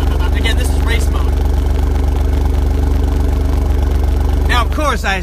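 Close, loud idle from the twin-turbo V6 of a 2017 Alfa Romeo Giulia Quadrifoglio set to race mode, a steady low throb with faint clatter that dips slightly near the end.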